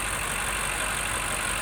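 A 2021 BMW M5 Competition's 4.4-liter V8 runs at a steady idle, a dense, even engine drone heard up close with no talking.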